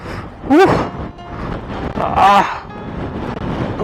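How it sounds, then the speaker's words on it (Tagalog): Strong gusting wind buffets the microphone in broad, rumbling bursts on a high mountain road near Tinoc, Ifugao, with a couple of brief voice-like sounds cutting through. "Grabe yung hangin oh, kita nyo."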